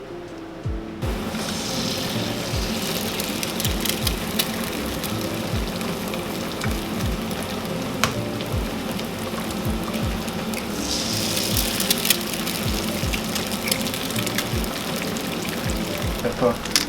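Steak sizzles in a hot pan alongside eggs, onion and garlic, a constant crackling frying hiss throughout with occasional clatter.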